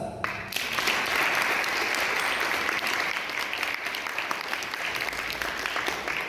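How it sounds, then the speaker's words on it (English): Audience clapping hands at a sports talk show event, a full continuous round of applause starting abruptly and holding steady to the end. "So we need to clap hands for her and others."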